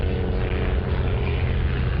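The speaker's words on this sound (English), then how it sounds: "a Cessna, about a 20-seater, I think, 16-seater. Flies guests into the lodges" A Cessna Caravan single-engine propeller plane that ferries guests to safari lodges drones loudly and steadily overhead, a continuous low engine roar filling the whole moment.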